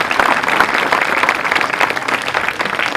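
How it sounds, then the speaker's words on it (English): Crowd applause for students at a school groundbreaking ceremony in Brownsville, Texas, loud sustained clapping throughout the moment. "let's give a round of applause to our students who have done outstanding work academically"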